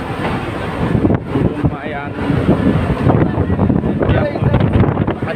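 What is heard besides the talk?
strong wind on ship deck 7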